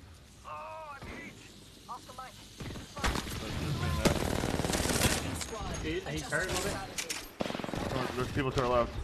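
Gunfire in an online shooter game: bursts of automatic weapon fire and scattered shots mixed with mechanical clatter, with players talking over the action throughout.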